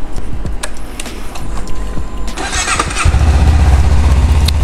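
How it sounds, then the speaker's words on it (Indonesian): Honda CBR250RR motorcycle engine cranking and catching, then settling into a loud, steady idle close by, with no talking. "So kita start motor dulu lah."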